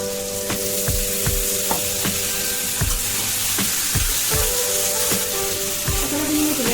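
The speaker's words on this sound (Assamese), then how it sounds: "এতিয়া এইখিনি মই অকণমান ফ্ৰাই কৰি লৈছোঁ।" Local chicken fries in a pan before banana stem is added, with a loud, close, steady sizzle. Repeated scraping strokes of a spatula sound at regular intervals throughout.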